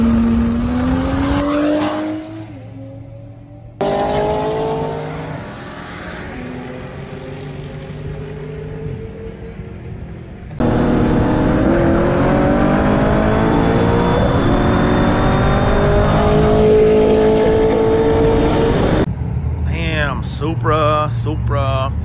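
A Corvette Z06 and a BMW M3 race each other, their engines revving and rising in pitch through several loud, close acceleration runs, broken up by abrupt cuts, with voices talking at points.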